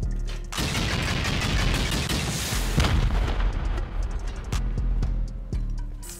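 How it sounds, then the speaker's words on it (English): Rocket blasts in a base-raiding video game, loud and booming, with a long continuous rumble of explosions followed by several sharp separate impacts near the end. "I'll just keep rocketing"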